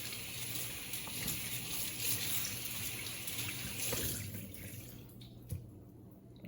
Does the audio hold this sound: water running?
yes